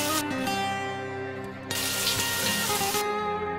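A shower runs in a holiday setting before a pool swim, a steady dense hiss of falling water that surges louder partway through and holds, close and continuous with no voices.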